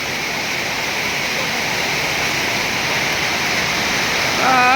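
Heavy rain pours down outdoors in a dense, constant broadband roar with no breaks. A voice cuts in only at the very end.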